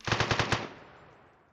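Automatic gunfire in the video game One Armed Robber, a quick burst of about five loud, close shots fired in rapid succession, followed by a fading echoing tail.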